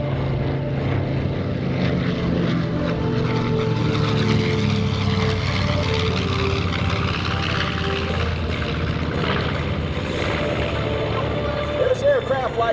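A B-25 Mitchell bomber makes a photo pass at a military base open house airshow, its propeller engines rumbling and droning steadily as it goes by. An announcer talks over the sound through a loudspeaker.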